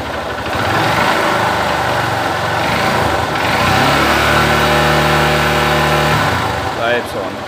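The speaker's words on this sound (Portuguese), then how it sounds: "Agora vou estar dando partida aqui e mostrando para vocês." A motorcycle engine cranks and fires up, then revs, its steady running tone rising and settling with a strong harmonic drone partway through, loud and close, ending with a brief rustle.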